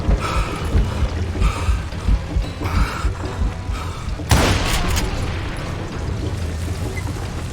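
Dynamite explosion in the Call of Juarez Gunslinger video game, a single loud close blast with a sharp burst and rumbling tail, following several heavy booming thuds over continuous low roar.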